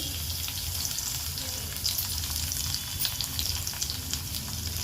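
Mustard seeds, cumin and garlic frying in hot oil give a steady, close crackling sizzle with faint pops throughout.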